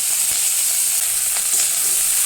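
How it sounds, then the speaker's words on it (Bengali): Onions and green chillies fry in hot oil with black cumin seeds, giving a loud, steady, close sizzle that runs unbroken with a few faint stirring clicks and no voices. "প্রথমে আমি তেল গরম করে দিয়ে দেবো কালো জিরে ফোড়ন, তারপরে দিয়ে দেব এই পেঁয়াজ কাঁচা লঙ্কাগুলো।"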